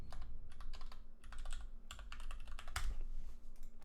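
Someone types a password on a computer keyboard to log in, producing a quick close run of key clicks with a louder tap near the end.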